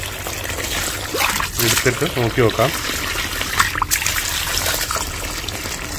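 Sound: muddy backwash water from vessel filter trickling into glass

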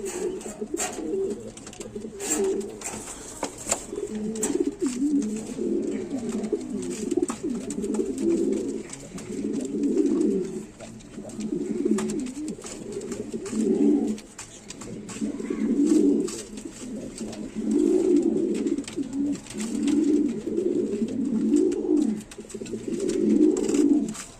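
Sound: white King pigeons cooing

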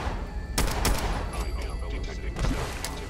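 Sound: gunfire from rounds being fired in the video game Fallout 4

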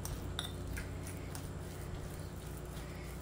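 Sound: mixing egg with utensil in bowl

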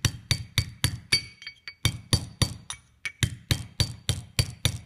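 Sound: hammer tapping a bearing into a small engine starter generator

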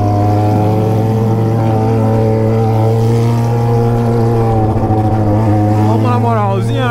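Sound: Kawasaki Ninja motorcycle exhaust popping and revving

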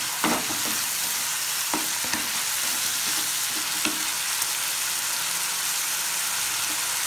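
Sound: mutton and spices frying in pan

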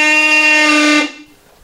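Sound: Seadog Bulldog marine horn blast

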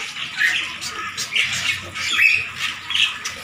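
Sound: bird squawking

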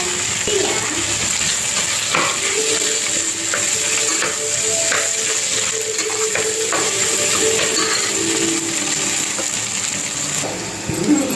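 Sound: vegetables sautéing in pan for vegetable kuruma

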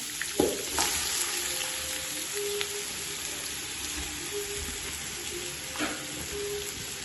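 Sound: frying onions in ghee

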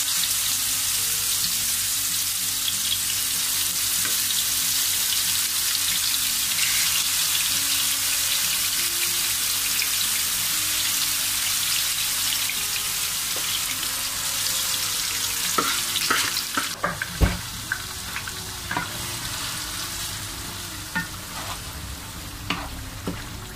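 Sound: vegetables frying slowly in olive oil for sofrito

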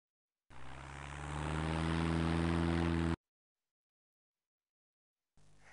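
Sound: airplane flying sound in children's English learning game

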